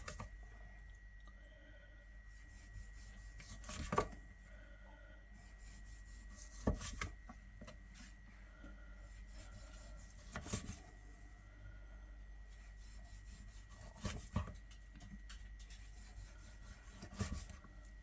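A knife saws by hand through a semi-frozen loin of home-cured smoked bacon, giving steady, quiet rasping strokes with a louder thump every few seconds as each slice comes free.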